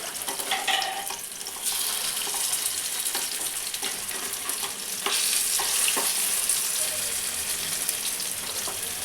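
Potato tikki frying in oil, a dense continuous sizzle up close with bursts of louder crackling and a few scraping stirs, no one talking.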